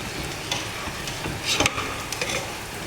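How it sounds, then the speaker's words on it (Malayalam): Finely grated coconut fries in Milma cow ghee with a steady crackling sizzle, while a spoon stirs and scrapes in the pan with a few louder clinks partway through. "തേങ്ങ ചെറുങ്ങനെ പൂണ്ടിട്ട് ആദ്യം പൊരിക്കുന്നു"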